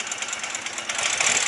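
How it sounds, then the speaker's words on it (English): A Soviet Ural motorcycle engine idles too low, chugging close up in a rough, uneven run that grows slightly louder toward the end of the short stretch. "this one needs to have the idle brought up a little bit. It's too low."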